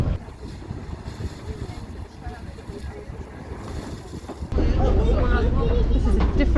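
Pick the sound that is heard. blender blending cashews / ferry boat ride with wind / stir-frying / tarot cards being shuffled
ferry boat ride with wind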